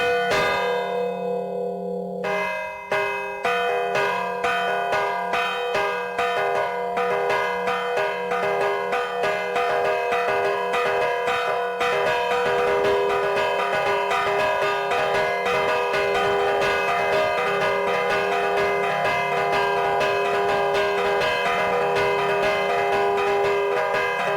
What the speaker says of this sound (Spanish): A ver que suena la campana.